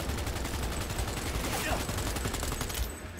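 Gunfire from the video game Cyberpunk 2077 Phantom Liberty rattles in dense, rapid bursts throughout, loud and close, then cuts back near the end, with a voice talking over it.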